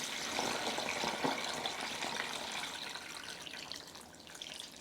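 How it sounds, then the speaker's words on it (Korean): Cooled water pours gently and continuously into a jar packed with cucumbers, a steady, close trickle and splash that tapers slightly near the end. "여기에다 이제 물을 부어주는 겁니다"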